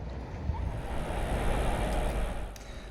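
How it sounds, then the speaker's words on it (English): Waves and wind aboard the Cross River ferry between Cobh and Passage West, a steady broad wash of water and gusting air against the microphone, with no voices. "this is the Cross River ferry from Cobh to Passage West"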